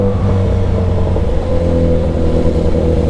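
Cars drive by on a midday road, a steady loud engine drone with mid-range revving that holds without a break.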